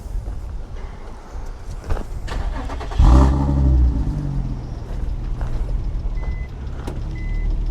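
A barn-find Nissan Fairlady Z cranks and catches at about three seconds, its engine bursting into a loud, rough rumble and then settling into a steady idle close by, with no one talking.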